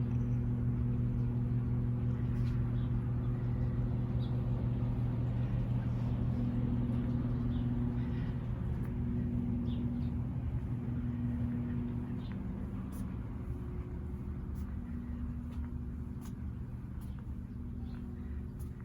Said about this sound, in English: Sorry for the noise from the cooler.